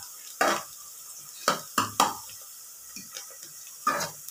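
Food frying in a pan while making village-style kaltapa, with several distinct scraping stirs of a ladle against the pan over a faint low sizzle, close, irregularly spaced, no speech.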